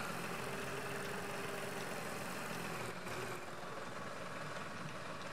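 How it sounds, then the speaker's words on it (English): Tractor engine idling steadily in the Farm Expert 2017 farming video game, a constant mid-low rumble that runs loud and unchanging throughout with no talk over it. "I'm gonna pull this tractor in so it's not out in the weather"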